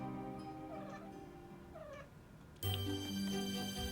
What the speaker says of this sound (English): That cat is just fucking out my window.